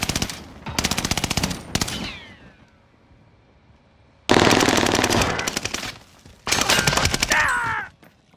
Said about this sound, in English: Taking shots here.